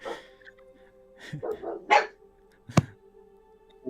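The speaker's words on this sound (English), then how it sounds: "The outside dogs are barking." Dogs bark outdoors, a few scattered yips and barks with a whimper, fairly distant and moderate in loudness, spread unevenly over a few seconds.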